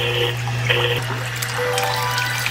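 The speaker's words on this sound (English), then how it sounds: "I bought this special machine off Amazon, which apparently is supposed to simulate a realistic waterfall." A small waterfall-simulator machine set up for a Lego base runs, making a steady rush of splashing, trickling water over a constant low motor hum. No voices are heard.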